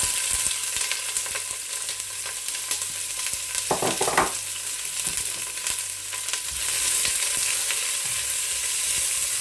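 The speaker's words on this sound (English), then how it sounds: "And then straight in with your onion." Onion hits hot oil in a pan for pea pilau, giving a steady close sizzle with a brief burst of stirring clatter midway, alone with no voices.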